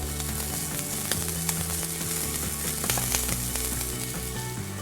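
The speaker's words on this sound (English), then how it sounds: "I'm going to take the potatoes, I'm going to place them in the pan, just like that." Tender parboiled potatoes go into a pan of oil on medium heat for crushed crispy potatoes, giving a loud, steady sizzling hiss with scattered crackles over a low tonal background.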